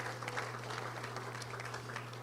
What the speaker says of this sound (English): let's give a round of applause to yourself for being members